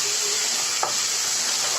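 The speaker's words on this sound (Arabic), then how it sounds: "وبرده هديله كده تشويحة مع الشعرية، مش هنزل عليه على طول بالمية" Washed rice stir-fried with toasted vermicelli in a pot, giving a steady close sizzle and hiss with a brief scrape of stirring partway through.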